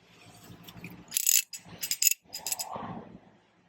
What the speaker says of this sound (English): You just wrench those guys off.